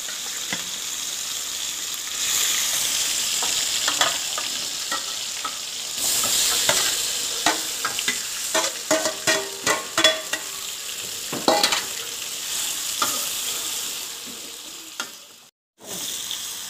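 Chicken frying with tomatoes in a pan for home-cooked chicken karahi: a continuous hiss with a run of quick ladle scrapes and clatters in the middle, then a brief dropout near the end.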